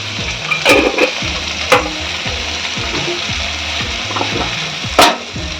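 Mushrooms frying on a hot tawa with salt and turmeric, a loud close sizzle under steady rhythmic scraping and stirring, with a few sharp clanks of a spatula against the pan.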